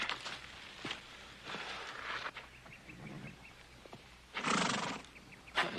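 An injured, bandaged horse whinnies several times and walks with clip-clopping hooves, the neighs rising loudly over soft steps at moderate distance.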